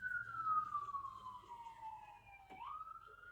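A siren outdoors, faint and distant, its wailing tone sliding slowly downward before swinging back up, with no talking over it.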